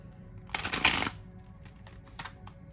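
A deck of Vox Arcana tarot cards being shuffled by hand, one close, bright riffling burst followed by a few softer card taps and slides.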